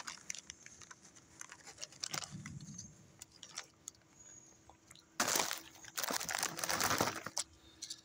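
A bag of Doritos Tangy Ranch tortilla chips is torn open, with crinkling plastic rustles and sharp crackling bursts, the loudest and densest near the end, close to the microphone with no talking.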